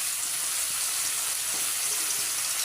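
Onions tossed into spices frying in a pan give a steady, close sizzle and hiss, with a few faint scrapes or taps in the pan.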